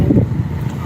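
Cold night wind blows outdoors: a brief, loud, low rumbling gust buffeting the microphone, with no talk.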